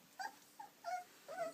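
A young puppy in a litter gives several short, faint whimpering and growling yips in separate bursts, close to the microphone, with no voices.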